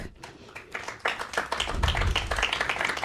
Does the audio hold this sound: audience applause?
yes